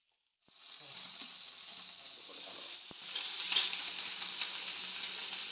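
Pumpkin pieces drop into ghee in a frying pan and sizzle at once, a steady close hiss that grows a little louder partway through.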